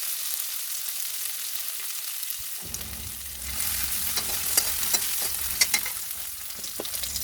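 Ginger garlic paste fries in hot oil alongside browned onions and green chili. A soft hiss swells into a fuller, louder sizzle about halfway through, with sharp crackles and occasional stirring scrapes.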